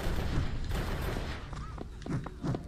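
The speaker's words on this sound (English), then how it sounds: "Stop shooting at me." Enemy gunfire rings out in the Xbox video game Drake of the 99 Dragons inside a casino, a few sharp, fairly faint shots scattered across a short stretch with no talking.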